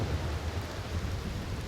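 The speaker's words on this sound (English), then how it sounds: "It's still raining quite a lot." Heavy rain falling steadily as a storm passes, a dense continuous patter with a low rumbling undertone, no voices.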